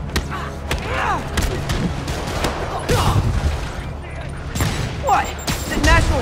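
Rockets and explosions in the video game Spider-Man Remastered fire in a rapid barrage of booms and mechanical thumps, loud and close, mixed with game voices and music.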